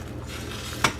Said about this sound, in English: I just kind of move the egg aside and let some of the uncooked egg flow to the bottom